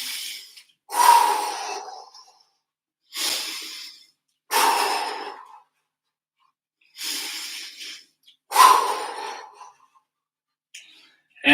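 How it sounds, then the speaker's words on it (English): A person takes deep, slow breaths during a relaxation exercise, with six loud, close, airy inhales and exhales separated by pauses of a second or two and no speech. "3 big breaths."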